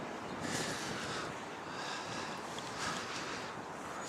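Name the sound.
wind at seaside graveyard in Seaham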